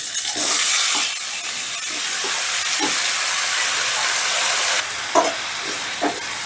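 Mashed masoor lentils hit hot oil with reddened fried garlic, giving a loud, steady sizzling hiss that surges at first, then settles with a few soft stirring scrapes.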